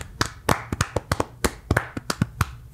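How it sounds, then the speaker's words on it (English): A handful of sharp, separate hand claps at close range, irregular in rhythm and fairly quiet, with brief gaps between them. "A very demure clap today."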